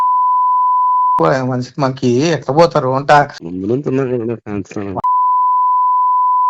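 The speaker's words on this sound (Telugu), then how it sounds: "ఈ మాటలకు ఎన్ని బీప్ సౌండ్లు వేసినామంటేనే అర్థం కావాలి" Censorship beeps, a steady pure electronic tone, sound before and after a stretch of speech in a Telugu news talk show, loud and close.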